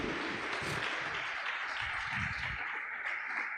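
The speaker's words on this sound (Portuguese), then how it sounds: "Aplauda Jesus Cristo." A church congregation applauds in a continuous, dense wash of clapping that fills the room at an even, moderate loudness.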